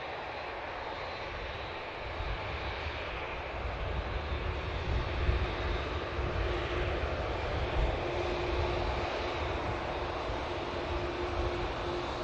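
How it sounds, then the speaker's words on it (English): An Egypt Air airliner taxis toward the second runway at Manchester Airport, its engines giving a steady broadband jet roar with a faint tonal whine, moderately distant and unbroken, with no voices. "Got a glimpse of beautiful Egypt Air taxiing over to the second runway as well"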